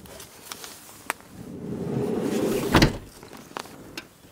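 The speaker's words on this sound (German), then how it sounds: "Die Tür geht halt auch zu." A Volkswagen California camper van's door rolls and thuds shut near the microphone, a swelling slide ending in one firm closing knock, with a few small clicks before and after it and no voices.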